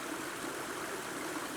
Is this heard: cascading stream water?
yes